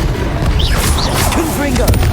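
Confringo fire spell blasts in the Hogwarts Legacy video game, heavy booming bursts with whooshing magical swishes layered over a dense, loud combat din while voices call out.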